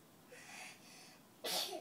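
A 14-month-old baby lets out a single short, soft sneeze near the end of a quiet moment, preceded by faint breathy sounds.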